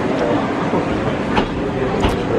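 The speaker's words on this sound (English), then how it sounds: "Oh yeah, our train is Thomas the Train themed" A themed passenger train running near Mt Fuji, a steady loud rumble with faint clicking throughout, heard from on board.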